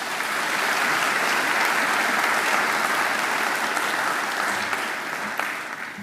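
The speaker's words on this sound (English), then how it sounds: "I think he deserves another great round of applause." A graduation ceremony audience at Macquarie gives a sustained round of applause for the occasional address speaker, dense steady clapping filling the hall for several seconds before easing slightly at the end.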